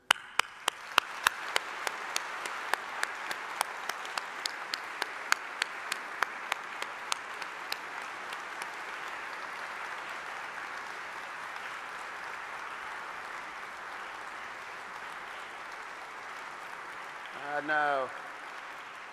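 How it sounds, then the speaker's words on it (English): Graduates at a 2019 York St John University graduation ceremony give a thank-you round of applause: a few sharp separate claps at first, then a steady, even wash of crowd clapping that holds on, with a brief voice near the end. "giving a humdinger clap of thanks to all those who supported you"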